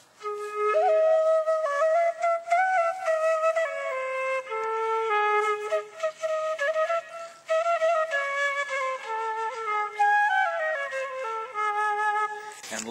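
Medium-sized bamboo Arabian flute playing a scale, a clear breathy tone stepping up and down through its notes close by, alone with no talking.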